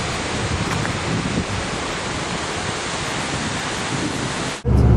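Waterfall beside a suspension bridge in eastern Turkey near the Iranian border, a steady loud broadband roar of falling water heard close up throughout, ending with a brief gust-like thump.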